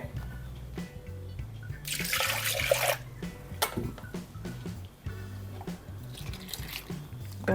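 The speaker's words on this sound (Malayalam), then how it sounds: "ഇനി കുറച്ച് വെള്ളം ഒഴിച്ചത് കഴുകി ഒഴിക്കേ" Water pouring and splashing into a pan of anchovy curry cooked with mango and ground spice paste, a bright burst of a couple of seconds over a low kitchen hum.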